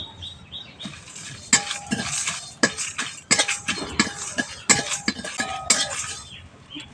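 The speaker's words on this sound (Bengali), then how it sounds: "মশলা থেকে একটা চুরবুর চুরবুর আওয়াজ হচ্ছে" Fennel seeds and dried red chillies dry-roast in a pan, a crackling, rattling sizzle punctuated by repeated loud spoon scrapes and stirs against the metal, close and without talk.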